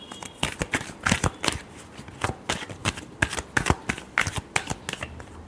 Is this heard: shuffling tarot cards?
yes